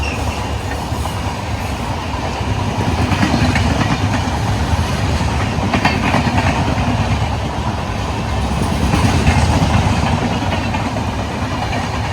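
A train rumbles past close by, steady and loud throughout, with rhythmic clatter of wheels on rail joints and occasional metallic squeals.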